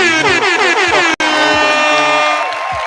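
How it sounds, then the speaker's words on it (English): DJ air horn sound effects blast loudly during a live stream, a rapid series of repeated honking bursts followed by a long sustained horn tone, with a brief cut partway through. "let's give Chadwick Boseman a round of applause and a DJ"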